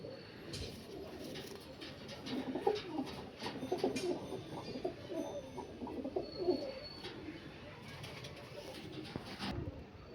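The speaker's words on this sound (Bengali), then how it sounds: "বন্ধুরা এখানে দুটো মিরাববালা মাদি দেখাচ্ছি, দুটি মাদি পায়রা, সিঙ্গেল মাদি পায়রা।" Female Panjabi Malwai Miravwale pigeons coo softly in a loft, a steady stream of low, rolling murmurs from a few nearby birds over faint background hiss.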